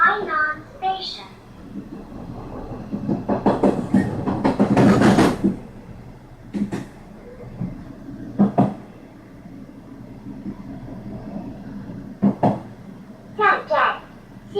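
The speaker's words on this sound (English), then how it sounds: "We are now arriving at Tainan Station." A tourist train pulls into Tainan Station with low rolling rumble and clanks, while a recorded announcement and nearby voices, including a child, speak in bursts over it.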